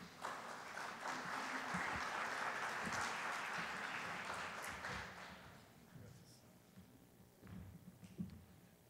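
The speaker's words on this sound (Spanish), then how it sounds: "Un aplauso para recibir al señor Jainer Shru Rodríguez." An audience applauds to welcome a speaker at a formal institutional event, a loud sustained clapping that fades after about five seconds into a quieter room with scattered sounds.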